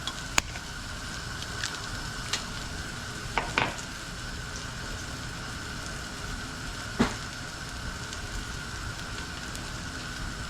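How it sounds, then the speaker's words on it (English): An egg fries in a pan with Pam cooking oil, giving a steady soft sizzle and crackle with a few sharper pops scattered throughout. "Once again, let the pan heat up. And then we'll drop our egg in."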